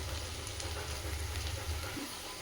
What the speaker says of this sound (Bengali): লাউয়ের খোসাটা মুচমুচে করে লাল লাল করে খুব সুন্দরভাবে ভেজে নিয়েছি